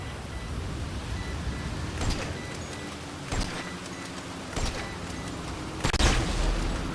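Gunfire in a GTA Online hangar crate mission, aimed at a signal jammer: a dense hissing, crackling wash of game ambience broken by four or five sharp, loud shot bursts at irregular intervals, the last one heaviest.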